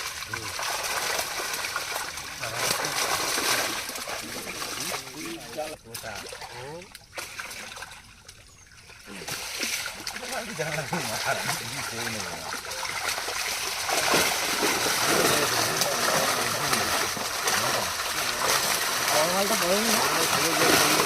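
Netted fish poured back into a village pond, water splashing and trickling in bursts over a steady wet wash, with people talking throughout.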